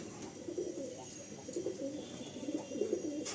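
Andhra Lalsira and Fulsira pigeons coo in a loft, a continuous low burbling of overlapping birds at close range against faint background hiss.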